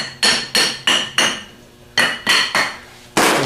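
A hammer taps a lever housing bushing into place on a 37MT starter armature held in a vise, giving seven sharp metallic strikes in a steady, slightly uneven rhythm, close and loud with no talking.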